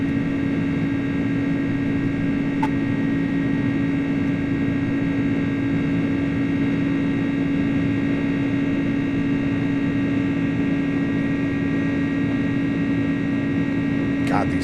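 An iniBuilds A300 airliner climbs out in Microsoft Flight Simulator 2024, flying heavy UPS cargo, its engines a steady, unbroken drone with a constant low hum that holds level throughout.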